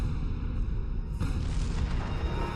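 Artillery barrage in the war video game Combat Mission: Shock Force, a dense rolling rumble of heavy booming explosions, one sharper blast standing out midway, close and continuous.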